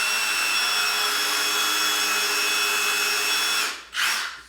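Milwaukee 2853-20 impact driver fitted with a 3/16 nut driver, a steady high-pitched motor whine running close and loud for several seconds, then cutting off briefly before a short second burst.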